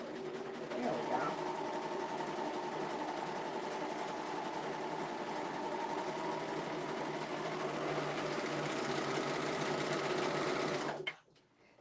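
A serger sewing machine stitching velour hums in a steady, close, continuous run for about eleven seconds, then stops abruptly and leaves a brief quiet tail.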